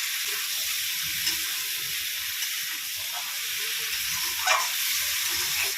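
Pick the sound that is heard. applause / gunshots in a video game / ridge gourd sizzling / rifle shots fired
ridge gourd sizzling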